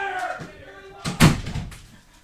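A door is shut indoors with a solid thud about midway, preceded by a person talking and followed by faint rustling, the closing sound brief and fairly close.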